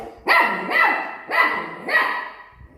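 Four sharp, high barks from a young dog, close and loud, in an uneven rhythm with short gaps.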